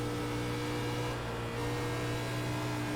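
Race car engine from the iRacing sim in a NASCAR Class B race at Texas, a steady loud mid-pitched drone that holds continuously through the moment as the throttle is worked hard, with no talk over it.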